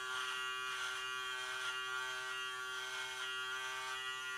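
A Hummingbird MK17 electric shaver runs steadily with a bright, high motor whine and a constant buzz, close and even for the whole stretch, with no voices.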